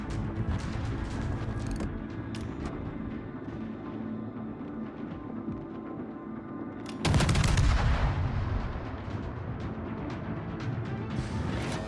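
Heavy naval gun salvo in World of Warships, a single deep booming blast mid-way that rumbles and decays over steady engine and ambient game noise.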